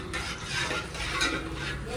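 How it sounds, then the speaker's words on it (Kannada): Whole garam masala spices frying in hot oil give a faint, steady sizzle, with occasional light stirring scrapes. "ಎಣ್ಣೆ ಕಾದಾದ್ಮೇಲೆ ಹಾಕೋ ಓಲ್ ಗರಂ ಮಸಾಲ ಸ್ಪೈಸಸ್ ಹಾಕ್ತಾಯಿದ್ದೀವಿ"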